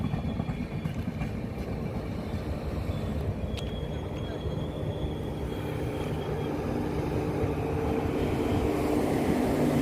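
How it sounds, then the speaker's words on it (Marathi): The Diva–Sawantwadi train approaches a quiet station, a faint, low rumble that gradually swells in loudness over ten seconds, with a brief metallic squeal early on. "आता ट्रेन येणार आहे दिवा सावंतवाडी"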